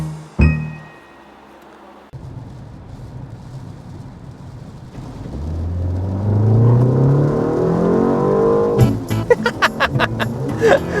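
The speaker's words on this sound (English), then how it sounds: "a fruity exhaust sound is what I'm looking for here" A 2025 BMW 1 Series F70 M135 with quad exhaust pipes revs up close: a low idle swells into a rising engine howl, then a run of sharp crackles and pops as the throttle snaps shut, with no talking.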